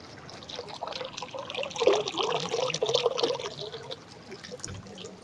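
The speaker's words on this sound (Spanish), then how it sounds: "El agua y en Dilián es una presión de agua, pero tremenda" A strong, pressurized stream of water flows steadily in Dilijan, Armenia, near the Haghartsin Monastery, a continuous broadband rush that swells and fades over several seconds with no talking.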